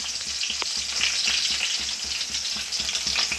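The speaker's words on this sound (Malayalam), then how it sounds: "വെണ്ടയ്ക്കയും തക്കാളിയാണ് നമ്മൾ വാട്ടുന്നത് അപ്പം ഇങ്ങനെ തെറിക്കുന്നുണ്ട്" Okra and tomato being sautéed in a pan for Kerala-style sambar sizzle loudly and close up, with constant hissing, sharp spitting pops of splatter and a faint rhythmic scrape of stirring.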